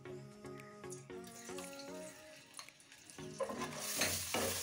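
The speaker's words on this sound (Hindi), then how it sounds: "अब ये एक वन स्पून लहसुन अदरक का पेस्ट है जो मैं इसमें ऐड कर रही हूँ" Garlic and ginger paste hits hot oil in a pan for a chicken bread parcel recipe, with stirring scrapes and a sizzle that rises to a loud, broad hiss in the final seconds. Tonal background music plays in the first half.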